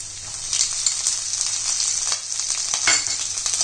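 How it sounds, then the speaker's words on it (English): Finely chopped garlic and green chilies sautéing in hot oil, a close, steady crackling sizzle with brief bursts as the pan is stirred, no voices present. "and saute it for 1 minute till the garlic"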